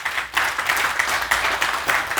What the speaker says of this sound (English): give Ben another round of applause